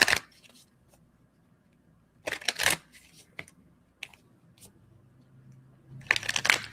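Tarot cards being shuffled during a pick-a-card reading, heard in three loud riffling bursts separated by quieter handling and faint rustles, with no talking.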